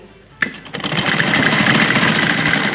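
Electric sewing machine stitching a net curtain panel, starting with a sharp clack and then running in a steady, loud, rapid mechanical whir right up close, without any voices.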